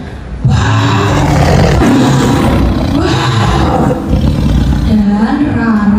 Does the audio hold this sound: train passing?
no